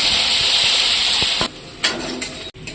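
Loud, close hissing sizzle of onions frying in hot oil after cumin seeds, with a few soft clinks, dropping briefly and then returning more quietly.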